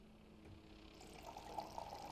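Sour cream pours in the Cooking Simulator video game: a soft, steady liquid glug that builds slightly toward the end, quiet and alone.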